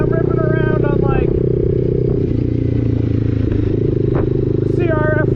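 A motorcycle fitted with an SC Project aftermarket exhaust idles and burbles with a deep, throaty exhaust note, revving briefly at the start and end, steady and close.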